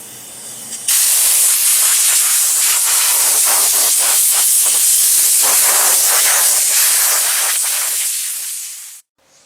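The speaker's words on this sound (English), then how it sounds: "Now I take my blow hose and blow everything off." Compressed air from a blow hose blasts sanding dust off a sanded cracked dashboard in a Box Chevy Caprice, a loud steady hiss that starts abruptly, holds for about eight seconds and cuts off.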